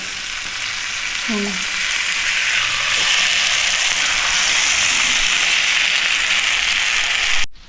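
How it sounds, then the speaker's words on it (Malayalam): Loud, steady sizzle of fish frying in a hot pan, a dense crackling hiss that carries on without a break and cuts off abruptly at the end. "ഫ്രൈ ആയി വരട്ടെ"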